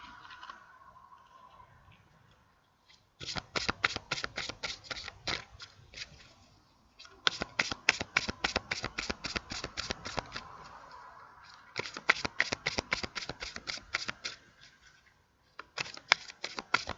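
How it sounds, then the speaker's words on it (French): Tarot cards riffle-shuffled in three long bursts of rapid crisp flicks, with quieter pauses between and a short final burst as the cards are drawn; no talking. "je vais tirer encore 2 petites cartes"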